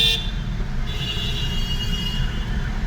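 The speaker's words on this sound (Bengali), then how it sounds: "দেখতে পাচ্ছ বিভৎস জাম," Heavy office-hour traffic jam in Kolkata, with a loud close car horn toot at the start over a dense steady rumble of idling and creeping vehicles.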